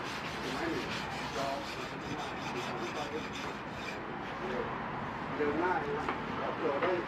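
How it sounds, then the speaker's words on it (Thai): A steel wire brush scrapes back and forth across wood panels being prepared for a white-grain lacquer finish, a steady rough rasping close by with someone talking over it. "ใช้แป็งเหล็ก จะเอาเยอะเอาน้อยก็อยู่ที่คนขูดนะครับ"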